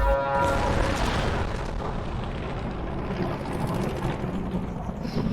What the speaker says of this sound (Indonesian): Loh, kok malah meledak pesawatnya?